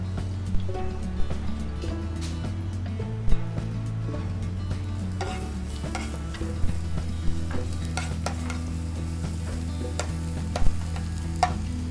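Garlic sizzling in a pan while being stirred, with a continuous frying crackle, low hum underneath and occasional clinks of a utensil against the pan, no talk.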